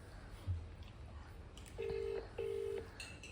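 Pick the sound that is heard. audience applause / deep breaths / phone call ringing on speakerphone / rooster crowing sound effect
phone call ringing on speakerphone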